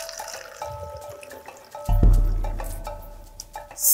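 About one and a half litres of water poured out for mixing an organic insecticide, a sudden splashing gush halfway through that tapers to a trickle with faint drips around it.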